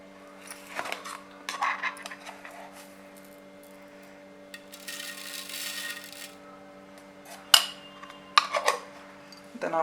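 A teaspoon clinks against a dish while sugar is added to pomegranate seeds in a home kitchen: a few light metallic taps and scrapes, close and fairly quiet, with a short rustling stretch in the middle.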